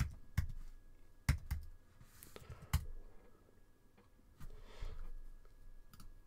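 Sparse keystrokes on a computer keyboard during a Christmas livestream, a few separate clicks and short bursts spaced with pauses, close and quiet, no speech over them.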